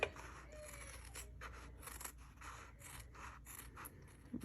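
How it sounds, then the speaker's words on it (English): Scissors snip and slide through fabric along a sewing pattern line, a soft continuous rasping cut running steadily throughout, close up with no talking. "go ahead and cut the rest of it along the line"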